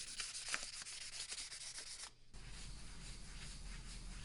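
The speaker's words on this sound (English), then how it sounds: "After a few coats of primer, I wet sanded it until it was smooth," Wet sanding of a primer-coated carbon hydrofoil mold produces a soft, steady rubbing and scraping, faint and close, with a brief pause before the strokes resume.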